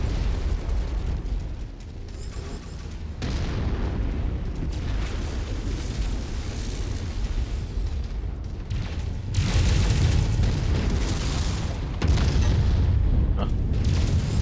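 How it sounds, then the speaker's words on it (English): A heavy rifle fires repeatedly in the mech combat game MechWarrior 5: Mercenaries, deep booming blasts over continuous rumbling battle noise, with several heavier shots standing out in the later part. "I'm using the heavy rifle."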